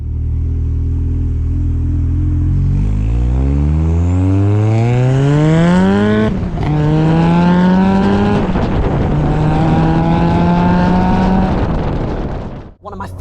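A stage 3 rear-wheel-drive Ford Sierra RS Cosworth accelerates hard through the gears, its turbo boost winding up in long rising engine sweeps, loud and close, with a brief drop between shifts.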